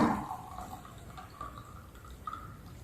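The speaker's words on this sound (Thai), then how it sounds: "จะเทน้ำแล้วนะคะ" Water is poured into a glass during a water displacement demonstration, a quiet, steady trickle with faint gurgling over low background noise.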